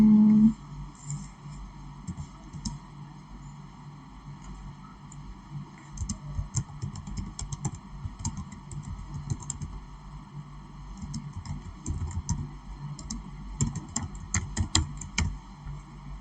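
Rapid keyboard typing on a computer, clicking in uneven bursts and runs close to the microphone, with a steady low hum underneath and no talking.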